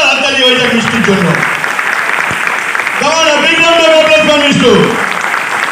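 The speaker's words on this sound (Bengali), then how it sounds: "মিষ্টু পালকে একবার জোরদার হাততালি হয়ে যায় মিষ্টুর জন্য" Audience applause for Mishtu Pal at a Vestige product training session in Bengali, a steady full wash of clapping lasting several seconds with a speaker's voice talking over it throughout.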